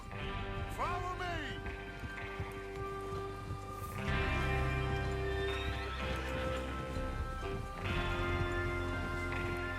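Horses in Red Dead Redemption 2, clip-clopping hooves trotting under layered whinnies and neighs, with a steady low rumble of movement and background ambience throughout.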